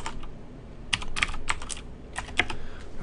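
Rapid clusters of keystrokes on a computer keyboard during a programming session, clicking close to the microphone in uneven bursts with short pauses between them, with no talking.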